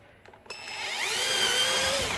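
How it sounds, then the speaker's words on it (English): A few light taps, then a power drill drilling out holes for anchors when installing a pet door whirs up to a steady, high-pitched spin and keeps running close by. "Just come right up here and just drill out those holes"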